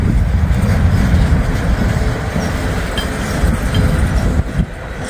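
A slow Norfolk Southern freight train rolling past in cold weather, a loud, steady, low rumble of wagons with faint wheel clatter, continuous and close throughout.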